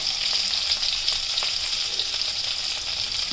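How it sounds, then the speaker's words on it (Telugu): Urad dal and cumin seeds frying in hot oil in a pan, a steady close sizzle with light crackles and occasional stirring scrapes, no voices. "మంచిగా గోల్డ్ కలర్ వచ్చేంత వరకు ఎంపుకోవాలి"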